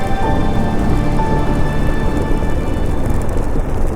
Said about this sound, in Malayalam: മഴ വരുന്നുണ്ട് തോന്നുന്നു